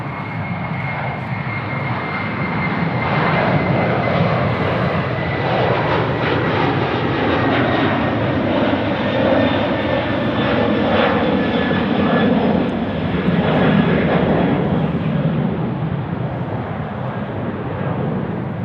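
A Qantas jet airliner takes off at Sydney Airport with a loud, sustained engine roar and a rising whine. The sound holds strong and close throughout, with no voices.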